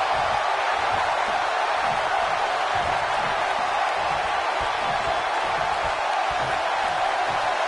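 Arena crowd in the WWE 2K19 wrestling game, Undertaker versus Goldberg: a dense, steady wash of cheering and crowd roar that holds at the same loud level throughout, with no clear breaks.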